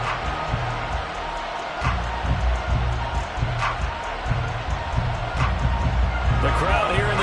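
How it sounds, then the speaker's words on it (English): Steady roar of a stadium crowd inside a domed arena during an American football game, loud and continuous, with a commentator talking over it. "The crowd here in the Dome making things difficult."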